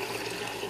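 Water bubbles and churns inside an aquaponics radial flow filter bucket, a brief, steady, close-up burble of moving liquid.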